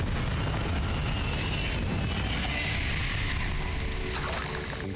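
Confringo fire-blast spell erupting in Hogwarts Legacy, a dense, continuous booming roar of explosions and crackle that fills the whole stretch, loud and close, with a brighter burst near the end.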